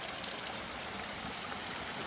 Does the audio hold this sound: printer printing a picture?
no